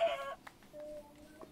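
A chicken clucks in Minecraft, giving a short bright squawk followed by a few softer clucking notes, close and fairly clear with no talk over it.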